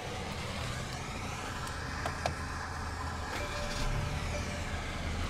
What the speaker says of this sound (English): And what you're hearing there is a 2-liter turbocharged inline 4-cylinder,